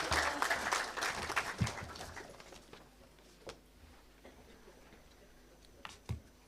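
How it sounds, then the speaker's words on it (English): An audience at a climate justice summer school in Nairobi claps as a speaker enters, a burst of applause that fades within a few seconds, followed by a near-silent room with a few isolated taps. "Clap for her as she comes in."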